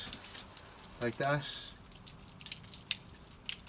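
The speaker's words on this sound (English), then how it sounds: "and I would rinse it from there" Water runs and drips while rinsing debris off a frame, a steady wet spray throughout with a brief voice partway in.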